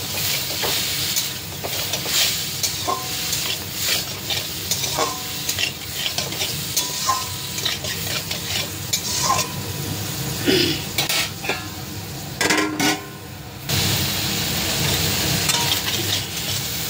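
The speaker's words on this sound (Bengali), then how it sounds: "এই ফুলকপি আলু মোটামুটি কষে গেল" A cauliflower and potato curry stir-fried in a pan, a loud close sizzle with frequent metal spatula scrapes and knocks against the pan, and a hissing burst of steam near the end.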